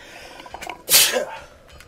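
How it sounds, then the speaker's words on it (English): A single loud sneeze bursts out up close, preceded by a few quick sharp inhales. "Gotta sneeze. Gotta sneeze."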